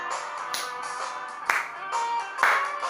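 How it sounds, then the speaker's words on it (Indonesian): A church congregation claps along during worship, with rhythmic hand claps and a couple of sharper accented claps standing out over sustained music in the background. "Tepuk tangan sama-sama"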